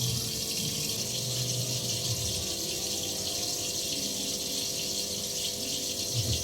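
Food being washed under cold running water at a kitchen tap, a steady soft stream of water splashing continuously in the background.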